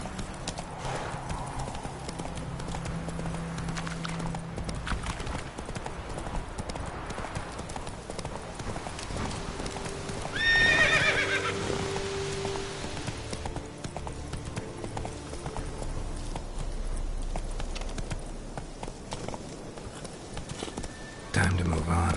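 Roach the horse galloping in The Witcher 3, a steady clatter of hooves running through the whole stretch with a brief whinny near the middle, set against game ambience and some voice.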